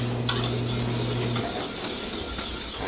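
A whisk stirs cream gravy in a pan, scraping and rubbing against the metal in quick repeated strokes, close and continuous, with a brief low hum at the start.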